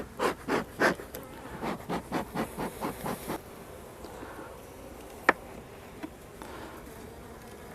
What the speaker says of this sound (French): il y a un frelon asiatique